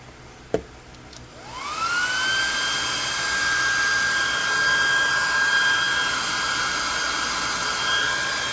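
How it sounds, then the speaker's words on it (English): A hair dryer drying paint switches on after a click and runs steadily with a high whine, loud and close, for several seconds. "get the hair dryer"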